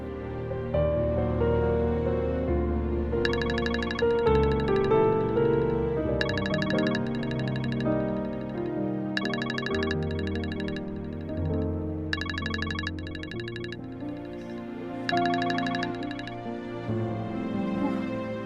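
A phone ringtone repeats in regular bursts, bright chirping rings spaced about every three seconds over a steady background music bed.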